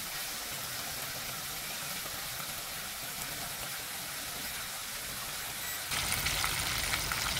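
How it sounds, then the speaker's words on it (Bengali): Chicken frying in hot oil, a steady bright sizzle like light rain that runs continuously and grows a little louder near the end, with no talking. "আমি তেলটা যেহেতু আমার টেম্পারেচার পারফেক্ট আছে, আমি চিকেনটা ছেড়ে দিচ্ছি।"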